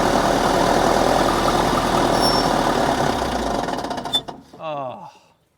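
A Case 450 bulldozer's engine runs loud and steady with a busy mechanical clatter, then cuts off abruptly near the end, leaving a brief ringing tail.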